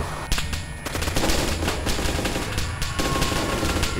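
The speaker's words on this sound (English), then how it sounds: "they're shooting from everywhere, mate" Sustained automatic gunfire in the online survival game DayZ, a dense, loud stream of rapid shots and bursts running without pause across the whole stretch.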